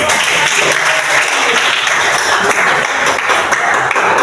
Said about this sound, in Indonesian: berikan tepuk tangan untuk